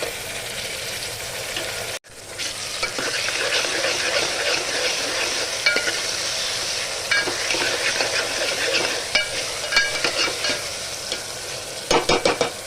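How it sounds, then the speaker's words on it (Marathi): Tomatoes tipped onto browned onions frying in a pan for a spiced dal, with a steady loud sizzle broken by a brief pause, then stirring and scraping throughout, plus scattered clinks near the end. "कांदा लाल झालाय तर त्यात टोमॅटो घालून घेते।"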